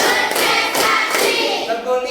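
Children clapping hands together on a counted beat in a classroom, a run of sharp claps close by over about two seconds.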